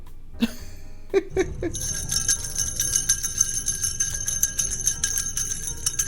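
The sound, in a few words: jingling bells on a Santa decoration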